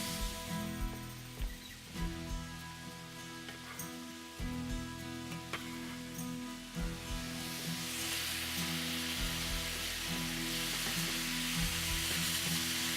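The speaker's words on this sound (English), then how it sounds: "Want to get that eggplant sauteed as well." Eggplant and ginger sautéing in a pan, a steady sizzle with intermittent stirring and scraping clatters throughout, fairly close and moderate in level.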